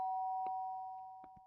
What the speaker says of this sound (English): Oh, that's a doorbell.